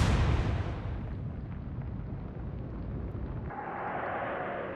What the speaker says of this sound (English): Big explosion as well.